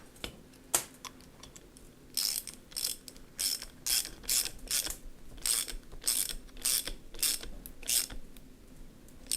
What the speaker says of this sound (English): Tighten it up to a sensible figure, not sort of millions of foot pounds.